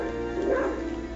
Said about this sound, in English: Can bark like a mad dog, apparently.